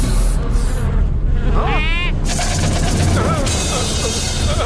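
Cartoon giant mosquitoes buzz in a loud, close whine with rising and falling pitch sweeps over a busy animated soundtrack.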